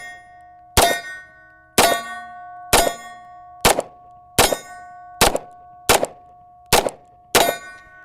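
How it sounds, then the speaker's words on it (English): Nine sharp pistol shots from a Tisas 1911 DS Carry firing CCI Blazer 115 grain ball at an outdoor range, spaced about a second apart, each a loud crack with a ringing tail and a steady metallic tone between. "out of the range to send in my first shots with the Tisas 1911 DS Carry"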